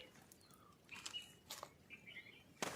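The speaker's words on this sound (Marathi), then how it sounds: "चिमण्यांचा आवाज मस्त" Sparrows chirp in short, scattered bursts on a quiet early-morning road at Sinhagad Fort near Pune, faint and a little distant with calm stillness between calls.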